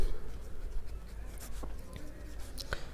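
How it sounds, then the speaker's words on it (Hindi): Chalk scratching across a board during a geometry lesson on triangles, a few short strokes and taps heard close over faint room hiss, without talk. "तो यहाँ पे लिखते हैं"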